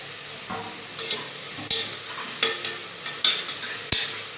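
Tomatoes sauté in a hot pan of ghee-scented rice, with a steady sizzle under repeated spoon scrapes and clacks against the pan, close and fairly loud, with no talking.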